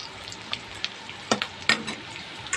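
Onions fry in a pan with a soft, even sizzle, close by and fairly quiet, punctuated by a few sharper crackles and spatters.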